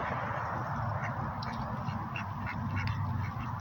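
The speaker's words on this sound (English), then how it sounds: "I'll see you later, ducks." Ducks resting by a downtown walkway in the evening, giving several scattered quacks close by over a constant outdoor background rumble.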